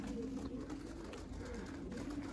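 Pigeons coo steadily and close by outdoors, a soft continuous murmur of several birds overlapping, with a low rumbling throughout and no talking.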